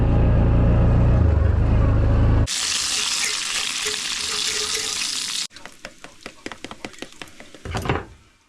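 Bacon and pancakes fry in a pan with a broad, loud sizzle, followed by a stretch of crackling pops. A voice is heard early on.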